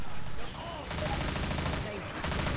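Rapid gunfire rattles through a chaotic zombie fight in the co-op shooter Left 4 Dead 2, bursts of automatic shots stopping and restarting with brief gaps, close and loud, with faint voices mixed in.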